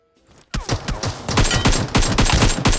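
Automatic gunfire in the mobile battle royale game PUBG Mobile, loud rapid bursts of shots that begin abruptly after a short quiet moment and continue in a dense, pounding rhythm.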